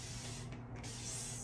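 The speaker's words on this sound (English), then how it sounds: "I'm also, once again, spraying with a spray bottle." A handheld spray bottle mists water onto the roots of a succulent during repotting, giving a steady, close hiss of fine spray with a brief dip partway through.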